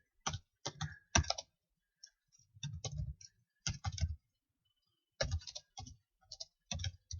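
Someone types a search query on a computer keyboard in quick bursts of clicking keystrokes with short pauses between, close and clear, no voices.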